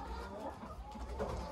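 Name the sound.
Brahma chickens clucking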